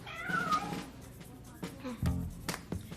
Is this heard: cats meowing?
yes